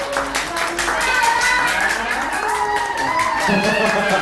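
Guests at a first birthday party in Gwangalli, Busan clap together in a dense, steady round of applause under music, with chatter and children's voices mixed in.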